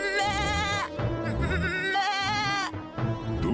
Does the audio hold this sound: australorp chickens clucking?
no